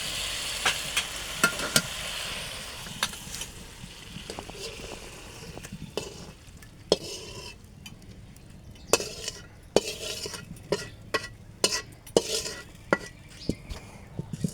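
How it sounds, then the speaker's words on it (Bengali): Fish curry being scooped from a pot into a bowl in a village kitchen: scattered metal spoon clinks and scrapes against the pot, sharp and uneven, over a quiet background. "তরকারি রান্না হয়ে গেছে, এখন আমরা বাটিতে তুলে নেব।"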